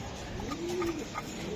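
A racing pigeon gives a single low, throaty coo that swells and fades, close by over a soft background hum.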